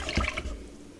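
OxiClean powder stirred into water in a measuring cup, a brief close sloshing, liquid swirl that fades quickly, with no talking.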